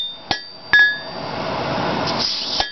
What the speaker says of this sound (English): While it's still hot, I'm going to put the veins on with our veining chisel like you see here.